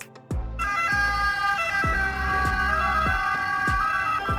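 An Italian ambulance siren, from a Fiat Ducato, Mercedes-Benz Sprinter or Volkswagen Crafter type van, wails loud and close in a steady repeating cycle, cutting in abruptly after a brief silence.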